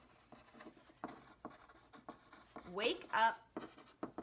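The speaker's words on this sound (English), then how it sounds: "So if I were to write this out" A pen or pencil writing on paper, with soft scratching strokes and short bursts of scribbling under a quiet voice.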